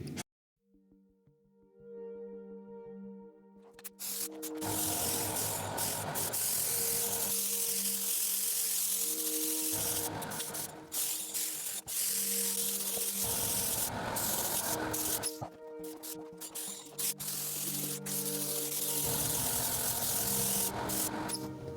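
A spray gun lays a coat of paint on a panel of a 2012 Mini Cooper S Roadster, producing repeated bursts of loud close hiss with short pauses between passes and a steady underlying hum.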